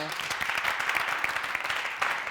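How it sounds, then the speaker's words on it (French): Studio audience applause on a TV comedy show, a lively patter of clapping hands that holds steady for a couple of seconds and lifts again toward the end. "ce garçon, applaudissements."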